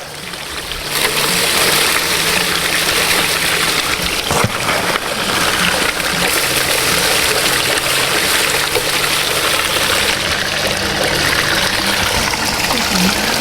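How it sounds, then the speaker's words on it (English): Water flowing steadily through a gold prospecting machine running sand, a loud, constant rushing wash with an engine-like hum underneath, no talk. "Water's flowing really good through the machine."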